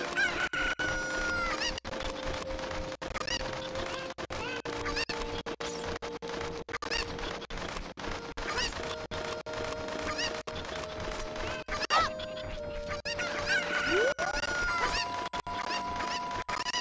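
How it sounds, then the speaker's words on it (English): Roosters and cuckoos in the video game Ocarina of Time crow and cluck in a dense, continuous chorus, with crows rising over a busy layer of clucking. "We got a lot of cock-a-doodle-doos"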